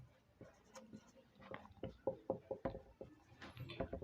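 Handwriting a phrase by hand produces soft, close scratching strokes and small taps in quick irregular clusters, fairly quiet, with a voice faintly present at times.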